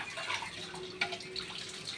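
Water runs steadily from a tap into a sink while a child washes dishes, a soft continuous splashing with a small clink partway through.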